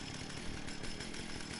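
Chainsaw weapon from the game Fallout 76 running steadily at full throttle, a loud continuous buzzing motor drone with a rough, even rattle and no pauses or talk.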